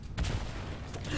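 Gunfire in Fortnite, a short dense burst of sharp shots and booms, loud and close, with no talk.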